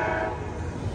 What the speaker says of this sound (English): Amtrak 713 San Joaquin bound train to Oakland Jet London Square Station